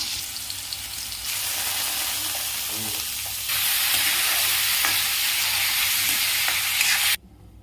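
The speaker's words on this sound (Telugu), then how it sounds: "ముందుగా క్యారెట్ బంగాళదుంప వేసుకోవాలండి వేసుకుని బాగా వేయించుకోవాలి" Carrots and potatoes fry in a pan with a loud, continuous sizzle that grows stronger partway through, broken by a few stirring knocks, before stopping abruptly near the end.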